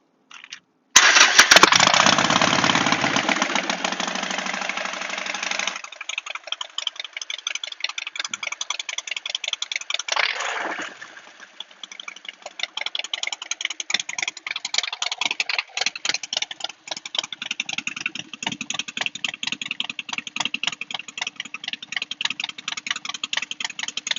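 A 2015 Harley-Davidson Forty-Eight 1200XL with Vance & Hines exhaust cranks and fires up loudly nearby, then settles into a steady, rapid, rumbling idle with rattly pulses, with a brief blip partway through and no voices.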